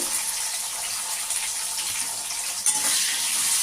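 Potatoes sizzle in a hot pan with tomatoes being added, a steady dense hiss of frying that stays loud and even throughout, close up with no voices.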